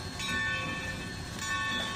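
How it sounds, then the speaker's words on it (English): A locomotive bell in the Trainz 2019 rail simulator rings loudly and steadily, a continuous metallic clanging with bright sustained overtones and no talk over it. "It's a very loud bell."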